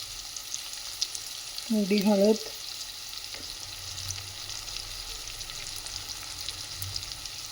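Sesame seeds sauté with onions in a pan as a vegetable dish is prepared. A quiet, continuous frying hiss plays at a low level, and a brief tonal, voice-like whine cuts in near the start.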